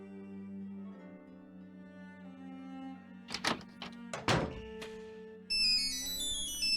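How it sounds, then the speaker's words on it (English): A cell phone in a Nancy Drew mystery game rings with a synthetic melodic tone after a few soft thunks, over a low steady background hum. "There goes my cell phone."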